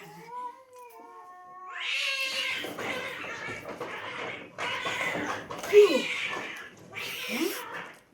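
A cat meows repeatedly in drawn-out, wailing cries, close by, with a few higher yowls near the end and faint voices around it.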